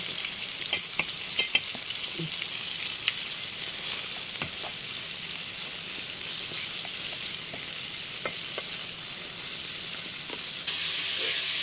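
Chicken pieces deep-frying in hot oil give a dense, steady sizzle and crackle, loud and close, with scattered sharp pops and no talk.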